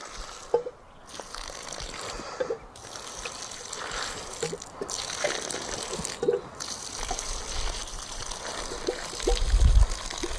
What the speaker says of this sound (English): So in each of these holes we just fill them up with water.